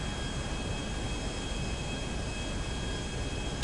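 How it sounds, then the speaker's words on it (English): A stolen airplane flies in GTA V, a steady droning engine roar that stays constant and fairly loud without change, with no voices over it. "I got away with stealing an airplane."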